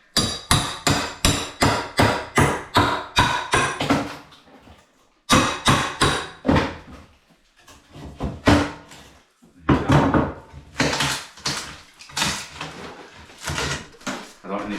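Hammer blows and wrenching knocks from a flat bar prying a bulkhead cupboard off above the stairs during a bedroom makeover: rapid repeated strikes, then pauses and irregular cracking, creaking bangs, loud and close.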